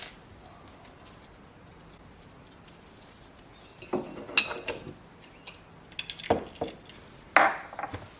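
Metallic clinks and scrapes as a coolant swirl pot is bolted in place with its supplied hardware on an SR20-powered S14 engine bay, a few sharp taps and rattles in short clusters over a quiet background.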